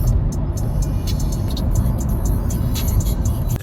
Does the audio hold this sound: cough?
no